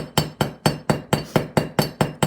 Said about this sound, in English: this is actually a riveting hammer